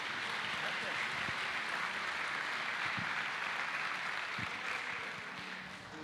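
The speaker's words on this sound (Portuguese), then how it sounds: "Vamos aplaudir a Deus recebendo o servo do Senhor." A church congregation applauding during a family worship service, a steady broad wash of clapping from a large group that holds for several seconds and eases slightly at the end.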